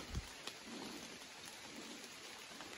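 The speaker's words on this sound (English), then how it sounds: "getting some rain starting to drip through the trees pretty good now" Rain drips through big timber in an Appalachian forest, with soft steady patter and a few louder drops landing nearby, faint and continuous with no voices.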